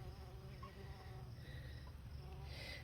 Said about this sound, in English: We have one of our honeybees.